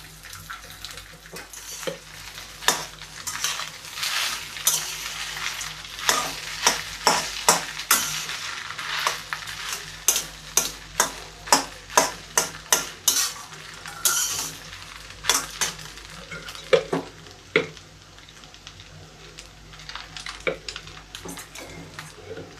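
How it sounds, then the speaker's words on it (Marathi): Rice being stirred into a frying pan of hot tempered spices, with a soft steady sizzle under repeated close scraping and clinking of a spoon against the pan. "भात मी थोडा थोडा करून घालून हलवून घेणार आहे"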